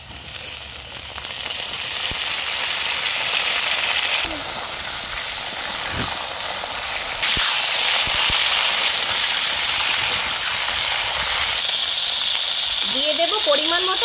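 Potato and cauliflower frying in oil in a pan make a loud, continuous sizzling hiss that surges louder as the cauliflower goes in, with occasional scraping of a spatula near the end.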